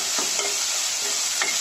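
Chopped tomatoes sauté in hot oil for a Dindigul-style chicken biryani, giving a steady close sizzle with a few soft scraping stirs of a spoon in the pan.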